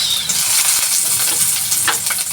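Garlic and onion fry in a hot pan with a loud, steady sizzle and hiss, close up. Faint stirring scrapes rise briefly near the end.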